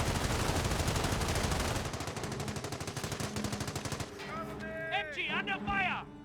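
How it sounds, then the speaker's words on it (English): Rapid bursts of MG42 machine-gun fire in the Company of Heroes strategy game, dense repeated rounds through the first four seconds, then scattered shots and whistling, swooping effects with a voice underneath. "MG under fire."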